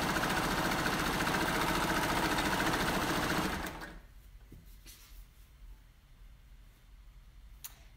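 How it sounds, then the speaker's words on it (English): A sewing machine stitches a cardigan shoulder seam from cuff to neck, a steady close whirring run for several seconds that stops abruptly, followed by quiet handling clicks. "I'm starting sewing at the end of the cuff and then up to the neck shoulder."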